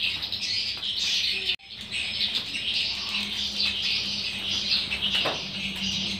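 Many swiftlets squawk and chirp continuously inside an enclosed bird nesting house, a dense, close, reverberant chorus of shrill calls with fluttering wing noise, briefly cut off once before resuming.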